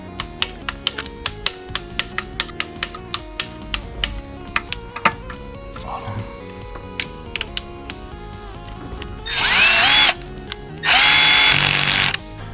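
Bolts on a Renault Mégane IV 1.3 TCe H5H engine being torqued to 8 Nm: a run of sharp, regular ratcheting ticks up close, then two loud sustained whirring bursts from a power tool near the end.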